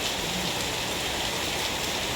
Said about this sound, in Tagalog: Grabe yung ulan